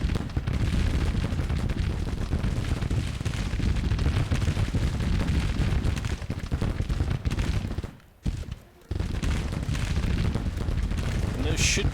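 Rapid artillery fire rumbles through a Civil War battle game, a dense, continuous roar of cannon blasts and booming with a brief lull near the end, while someone talks over it.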